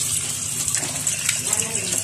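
Water pouring out as shirataki noodles are drained, a steady close gushing splash lasting a couple of seconds with no clear talk over it.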